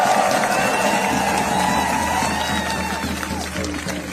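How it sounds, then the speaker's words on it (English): A rally crowd in Washington applauds and cheers for Mayor Sharon Pratt, a dense, steady roar of clapping and shouting that holds loud throughout and eases only slightly toward the end. "Give her a warm round of applause."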